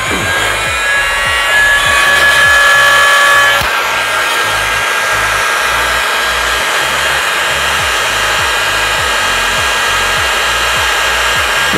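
Heat gun warming up to strip a plaster wall gives a steady, close blowing whoosh with a faint whining tone that changes character a few seconds in, continuous throughout with no talk.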